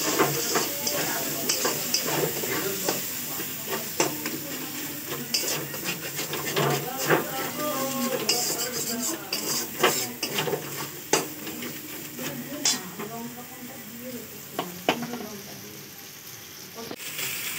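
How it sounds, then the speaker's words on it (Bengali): Fish sautéing in a pan with turmeric and a little water, giving a steady close sizzle with scraping and stirring clatter throughout, all without talk. "সামান্য জল দিয়ে মাছটাকে আমি ভালো করে কষাবো।"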